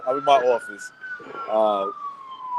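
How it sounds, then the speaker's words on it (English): A police siren wails steadily along a Manhattan street, a sustained tone running the whole time beneath a nearby man's speech. "Sorry for the sirens, guys."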